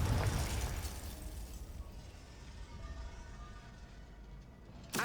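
Confringo blasting spell cast in Hogwarts Legacy: a loud fiery burst opening the clip, fading into a rumbling decay, with a second sharp blast right at the end.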